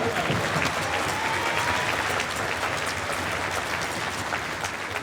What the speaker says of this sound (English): Let's give a huge round of applause to Weston Media.